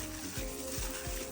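Food sizzling as it fries in a pan while hot wings are being cooked at home, a steady crackling hiss with a few soft stirring scrapes and no talking.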